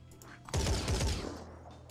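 Grenade launcher fire in the Phoenix Point pre-alpha game: a loud, dense burst of blasts and cracks lasting under a second, tailing off into a faint rumble.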